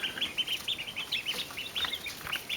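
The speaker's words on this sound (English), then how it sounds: "16 ducks and 6 chickens" Sixteen ducks and six chickens in a divided enclosure, a run of close, repeated quacks and clucks overlapping in quick bursts.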